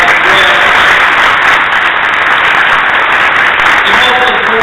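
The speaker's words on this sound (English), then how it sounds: "Please give them a round of applause as well." Loud, steady applause from a large crowd fills the room at a congressional field hearing in Detroit, continuous dense clapping throughout with faint voices mixed in.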